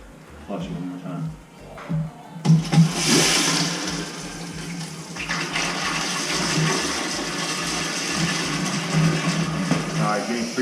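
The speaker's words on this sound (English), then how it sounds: "Flush it one more time." A household toilet is flushed during a plumbing toilet-auger job, letting out a loud, sustained rushing gurgle of water for several seconds. It starts after a short pause with some faint background voice activity.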